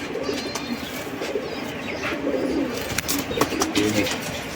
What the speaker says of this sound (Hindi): ये दूसरा कबूतर है माशाल्लाह, आप इसकी भी क्वालिटी देख सकते हो।